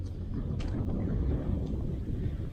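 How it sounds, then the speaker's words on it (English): Wind at a beach buffets the microphone in a low, continuous rumble with gusty swells, fairly quiet and steady throughout, with no other distinct sounds. "So, a bit of wind, unfortunately."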